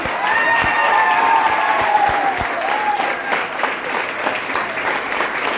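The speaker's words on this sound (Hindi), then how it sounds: "जोरदार तालियां आप अपने लिए बजा लीजिए।" Steady, loud applause from a crowd at a motivational leadership speech, continuous clapping that fills the whole stretch without letting up.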